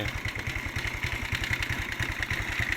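A motorcycle with a sidecar (saleng) runs at a steady idle, its engine close and loud with a regular low putter of even rhythmic pulses and no pauses.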